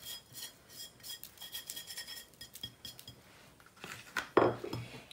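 A spoon scrapes and clinks rhythmically through dry spices in a baking tray, irregular rubbing strokes building to a louder metallic clatter near the end, no speech.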